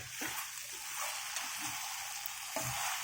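Okra fries in a pan with a continuous close sizzle, broken by a few soft stirring scrapes.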